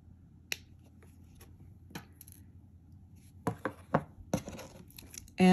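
Wire being snipped while making a single bead ring, a few sharp crisp clicks and snaps of the cutters close up, with a quick cluster of cuts and handling rustles near the end.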